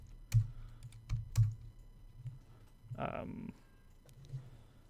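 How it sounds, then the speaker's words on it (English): A few sharp computer keyboard key presses tap out in a short, irregular burst, close and fairly quiet, while someone speaks over them. "So you select it and then write 0 on your keyboard."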